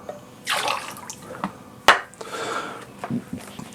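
Pineapple juice pouring into a jigger or glass while a keto cocktail is mixed: a short wet splashing stream, then a sharp clink and a few drips, close by and with no talking.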